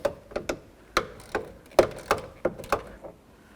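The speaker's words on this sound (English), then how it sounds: "Let's start removing those 10mm headed nuts." A ratchet loosens the 10mm mounting nuts on a pedestal-style side mirror of a Chevy C/K truck, giving a quick irregular series of sharp close clicks, about a dozen in under four seconds, with no talk.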